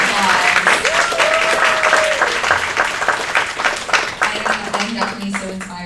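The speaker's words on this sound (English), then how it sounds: "Can we give these incredible women another round of applause?" An audience applauds a panel of women at a politics event, dense steady clapping lasting several seconds, with a voice heard briefly over it.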